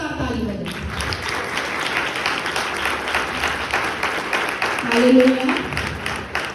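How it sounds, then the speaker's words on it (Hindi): A church congregation claps loudly and steadily in dense, sustained applause, with a voice calling out over the crowd partway through. "सबसे पहले मैं चाहूंगी परमेश्वर पिता के लिए जोरदार ताली बजाएं।"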